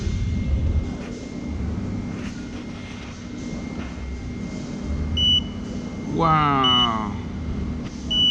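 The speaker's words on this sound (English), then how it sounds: "And then it's beeping at me. So it wants me to take my freshly squeezed orange juice." A freshly squeezed orange juice vending machine in Singapore gives a few short, high electronic beeps, spaced apart near the end, while a person's voice speaks nearby.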